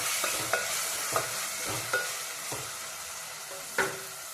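Tomato pieces frying in a pan for a tondekayi dish are stirred with a utensil, giving soft sizzling under a series of distinct scraping and clacking stir strokes at an uneven pace, close up and without talk.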